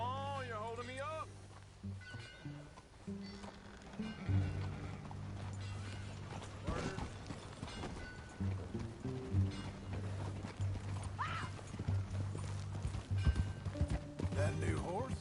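Horse hooves clip-clop in the video game Red Dead Redemption, a rhythmic mid-distance gait under a low musical score and snorts, with characters speaking throughout.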